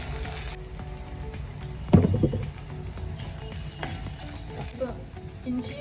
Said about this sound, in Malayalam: അതിലേക്ക് അരിഞ്ഞു വെച്ചിരിക്കുന്ന ഇഞ്ചി വെളുത്തുള്ളിയും ചേർത്ത് മൂപ്പിച്ചെടുക്കാം